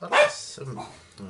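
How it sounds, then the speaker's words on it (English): A dog gives a single sharp bark at the start, followed by someone speaking over softer whimpering sounds. "sorry about the dogs."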